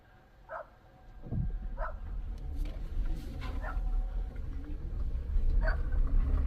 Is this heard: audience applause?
no